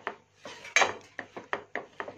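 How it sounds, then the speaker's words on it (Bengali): A spoon scrapes a thick dough of puffed-rice (muri) powder, flour and semolina in boiling milk around a pan in about seven rhythmic strokes, close and moderately loud, with no talk. "দিয়ে ভালো করে এইভাবে করে নাড়বো, একটা ডোয়ের আকারে করবো এগুলোকে"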